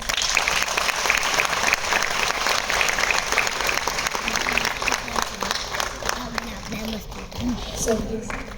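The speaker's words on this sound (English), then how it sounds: "welcome respected Mr. Ravin Desai on the stage with a big round of applause" An audience at a talk show gives a big round of applause to welcome a guest onto the stage, the clapping dense and sustained under a voice before it thins out toward the end.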